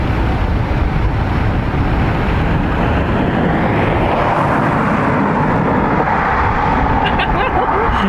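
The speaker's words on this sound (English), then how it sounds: "The pulsation of these engines when they're on taxi is mad." A Boeing 777-200 airliner taxiing at Dublin Airport, its jet engines giving a loud, close, continuous roar with a pulsing, rumbling quality that shifts slightly as it passes.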